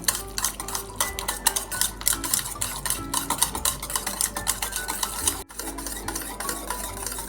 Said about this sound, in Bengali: একটা হ্যান্ড উইচের সাহায্যে কিন্তু আমি দইটাকে ভালো করে মিক্সড করে নেবো